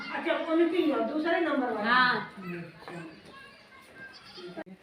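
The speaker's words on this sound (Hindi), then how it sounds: "तो ये देखो कितनी सारी बकरी।" Many goats bleat in a village, with wavering, overlapping cries close by over a few seconds, while a voice talks nearby.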